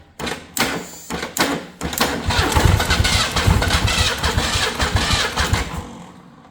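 A Ford 300 inline six, previously seized, cranks in several loud, close, rhythmic bursts, then catches and runs at a rough, pulsing idle before dying away.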